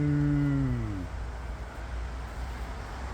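A cow in a field beside a highway lets out a single loud, close moo that fades out, followed by steady traffic rumble from the nearby road.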